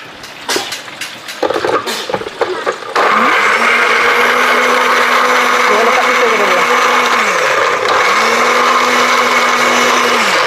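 A kitchen blender whirs loudly and steadily as it blends ingredients for chicken masala, kicking in after a few seconds of clatter and knocks, its motor pitch shifting now and then under the load.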